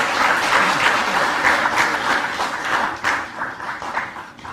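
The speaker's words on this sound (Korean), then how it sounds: "큰 박수 부탁드리겠습니다." Crowd applause at a National Assembly forum on rice policy, close and fairly loud at first, then thinning and tapering off toward the end.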